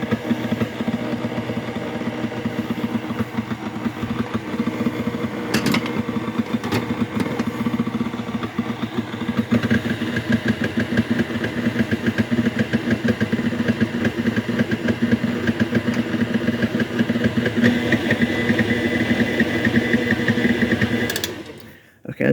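A blender whirls a vanilla and peanut butter candy mixture in a home kitchen, a loud continuous motor drone held steady for about twenty seconds before cutting off abruptly at the end.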